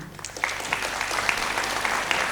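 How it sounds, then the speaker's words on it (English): A crowd claps steadily, a dense patter of many hands close by, continuing without voices. "big round of applause, all the students, all the parents"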